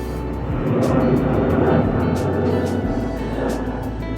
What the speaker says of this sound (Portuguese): o barulho de avião passando é constante